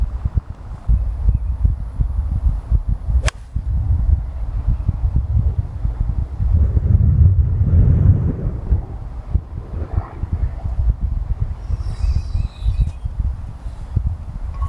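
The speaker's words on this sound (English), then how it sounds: "I've got 140 yards into the wind, so I'm gonna hit a 9-iron here" A 9-iron golf shot struck into the wind: one sharp, crisp club-on-ball crack early on, almost buried in steady, heavy wind buffeting against the microphone.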